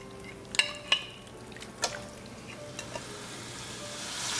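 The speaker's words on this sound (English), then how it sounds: "now we're going to bring into our fry pan" Marinated chicken breast pieces go into a hot pan with a few sharp clinks and knocks, followed by a steady low sizzle that swells toward the end, close by and without talking.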